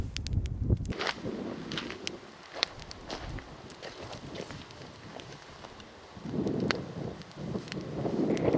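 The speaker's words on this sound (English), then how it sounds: "Yeah, very windy." Strong wind buffets an open outdoor spot in the Alaskan bush, a rough, low roar that swells at the start, eases through the middle and rises again toward the end, with faint scattered ticks and rustles over it.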